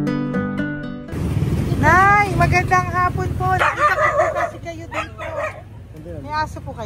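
A dog barks and yips in quick bursts close by, its sharp calls rising over steady conversation between people talking in Tagalog.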